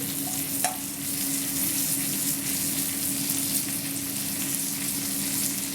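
Lardons frying in a pot for coq au vin, giving a steady, close sizzle with dense crackling throughout and a brief clink of utensils near the start.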